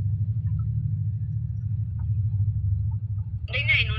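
Busy street traffic during Eid shopping rush rolls past as a dense, continuous low rumble, with a brief high warbling tone cutting in near the end.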